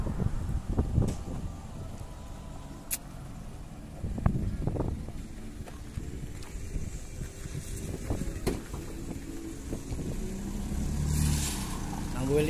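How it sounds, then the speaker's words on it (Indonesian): A car being driven on a road in Indonesia, en route to Medan, with a steady low engine and road rumble, wind buffeting, and intermittent thumps throughout while people talk over it. "Inilah mobil kami jalannya."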